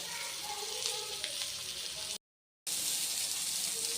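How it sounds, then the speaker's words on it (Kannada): Masala fish fries in a pan over a low gas flame, giving a soft, steady sizzle with faint crackles that cuts out briefly and then resumes. "ಲೋ ಫ್ಲೇಮಲ್ಲಿ ಗ್ಯಾಸ್ ಇಟ್ಕೊಂಡು ನೀಟಾಗಿ ಫ್ರೈ ಮಾಡಿಕೊಂಡು ಒಂದೆರಡು ನಿಮಿಷ"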